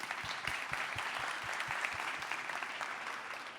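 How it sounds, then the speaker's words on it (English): Audience applause at a marketing conference masterclass, steady mid-distance clapping with a few distinct close claps standing out, running evenly without talk for a few seconds. "just give him also another round of applause"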